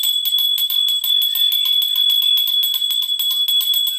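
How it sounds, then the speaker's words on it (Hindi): A small hand bell rings rapidly and continuously during a Hindu Janmashtami consecration ritual for Laddu Gopal, a bright, high, steady jingle with no voices. "तो देखिए हमने घंटी बजा दी है"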